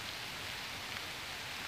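Steady rain falls across a big park in the city, a soft, even wash of drops with no break, fairly faint and heard with no one talking.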